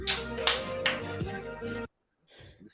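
A few sharp claps ring out near the start, mixed in with overlapping talk, before the sound cuts to near silence and then faint murmuring.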